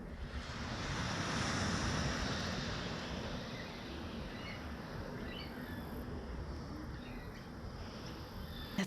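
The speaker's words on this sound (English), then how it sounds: "at night you can hear the waves and sleep" Steady ocean surf rolls and hisses continuously, a broad wash of breaking waves at moderate distance with faint insect chirps in the background.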